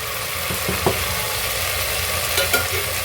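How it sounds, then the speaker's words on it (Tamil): A steady sizzle of spice powders sautéing in a pan for potato biryani, with a few soft scrapes and taps of a spoon stirring through it. "சேர்த்துட்டு நல்லா வதக்குங்க."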